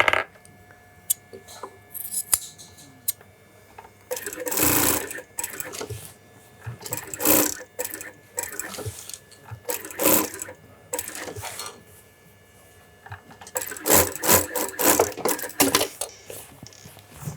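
At a bespoke shirt workroom, a sewing machine stitches a shirt gauntlet in several short bursts of rapid needle chatter, separated by quiet pauses and brief handling noises.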